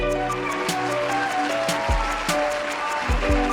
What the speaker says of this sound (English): Cue the applause for me for a second.